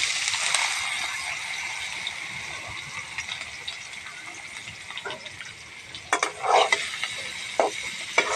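A mixture of taro stolons, shrimp, onion and spices hits a hot pan, giving a hissing fry with a few clattering stirs and pan knocks toward the end.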